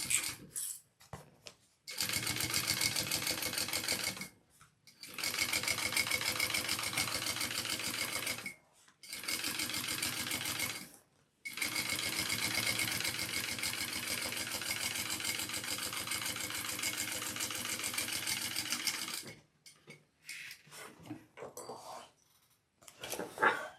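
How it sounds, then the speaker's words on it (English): A sewing machine top stitches down the base of a handbag in long continuous runs, broken by several short pauses, fairly close and steady with no talk over it. "so top stitch down the base"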